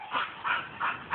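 A bull terrier barks four times in an even rhythm at a cat it has chased up a tree outdoors, each bark fairly near and moderately loud, with no talk over it.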